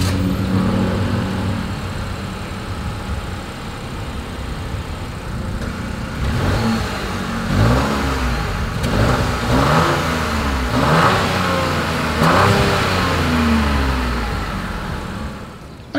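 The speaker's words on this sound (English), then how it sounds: "As always, here is that exhaust clip." A 2024 Chevrolet Trax with a single exhaust idles briefly, then revs in several short repeated bursts, close and steady, with no talking.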